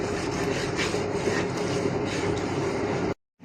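Whole spices including bay leaf, cinnamon, cloves and cardamom are stir-fried in a pan for chicken mung dal, giving a steady, close, dense sizzling hiss that runs without pause before cutting off abruptly near the end.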